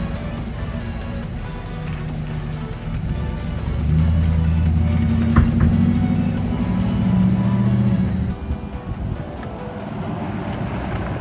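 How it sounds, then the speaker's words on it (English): A Nissan Titan pickup cruises down the highway with a steady low road and engine drone, swelling slightly in the middle before easing off toward the end. "We are all aligned and driving straight down the highway."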